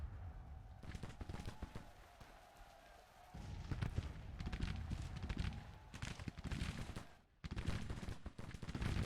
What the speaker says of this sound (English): Our Mississippi rifles and reboard muskets are doing work.